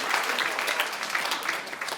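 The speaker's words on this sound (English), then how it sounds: "clap, because it feels good just to shake it up." A comedy club audience claps in a brief, dense burst of applause, lively and close, filling the whole moment.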